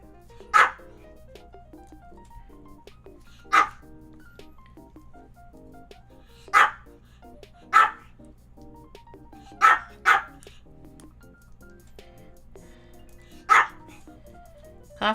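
A pet dog named Coffee barks in short single yaps, about eight separate barks spread irregularly with pauses, close by over a low background hum.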